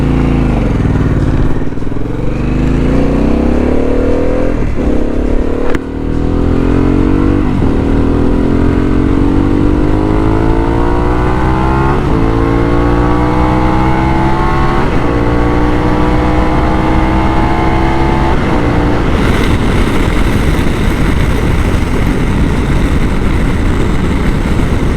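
A Harley-Davidson Pan America motorcycle with a Vance and Hines exhaust is ridden. Its engine climbs repeatedly through gear shifts, each rising drone cut by a short dip, all beneath steady loud wind rush. No one speaks.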